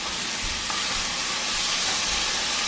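Eggs frying in a pan on a home stove, a steady, dense sizzle with faint steam hiss filling the whole stretch, close and continuous with no talk.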